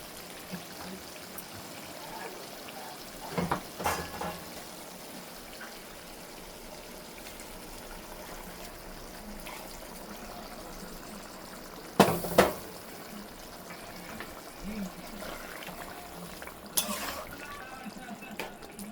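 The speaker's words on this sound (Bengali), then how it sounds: "এই গরম পানি এখন দিয়ে দেবো" Hot water is poured into a cooking pot in a few brief splashing bursts over a quiet, low kitchen background.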